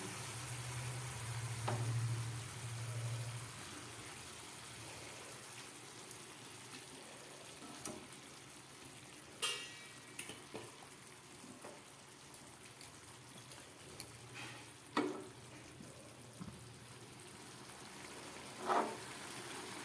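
Eggplant pieces fry in spiced oil in a pan over low gas, making a steady, soft sizzle with occasional louder pops and spatters through the stretch.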